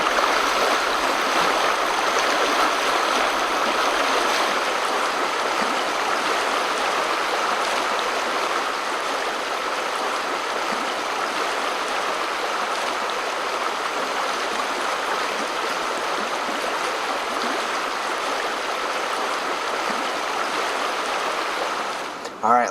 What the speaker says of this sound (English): let's just take a minute before darkness settles in and appreciate how beautiful this river is.